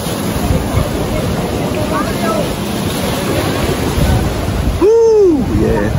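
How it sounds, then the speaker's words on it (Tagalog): Big ocean surf rolls at the Cloud 9 surf spot on Siargao, a broad continuous wash with wind buffeting the microphone, and a brief whistle-like sweep near the end. "Big waves."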